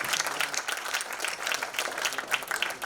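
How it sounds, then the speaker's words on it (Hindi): Sustained applause from a sizable audience at a launch event, dense and steady clapping filling the whole stretch with no voices standing out. "इसके लिए सुमित के लिए बहुत बड़ी तालियां होनी चाहिए। जबरदस्त तालियां।"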